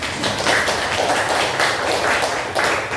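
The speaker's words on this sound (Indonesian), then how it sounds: "Tepuk tangan." Students clap in a classroom, a dense, loud round of applause that swells in rhythmic pulses throughout.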